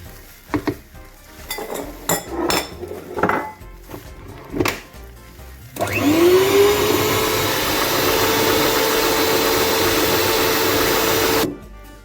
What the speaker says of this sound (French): Je vais remettre tout ça au robot.